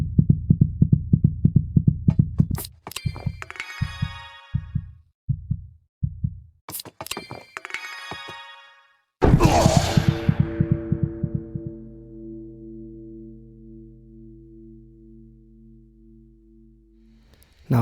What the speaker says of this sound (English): the heartbeat will be really pumping in the player's ears at this point